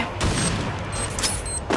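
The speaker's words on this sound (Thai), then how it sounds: "ปาระเบิดไป" Grenade blast in the shooter game Free Fire, a loud dense burst of explosive rumble and crackle sustained throughout amid other combat noise.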